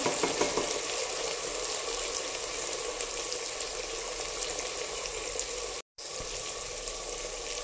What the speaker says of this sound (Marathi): आता इथे आपल्याला 2 ते 3 मिनिटं हे असंच परतवून घ्यायचं आहे